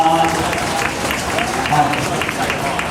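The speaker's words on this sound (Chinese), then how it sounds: "掌声鼓励一下" Applause from a baseball stadium crowd at a Rakuten Monkeys versus Uni-Lions game, a steady dense wash of clapping that holds for three seconds with cheering and voices mixed in.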